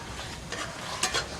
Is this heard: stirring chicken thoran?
yes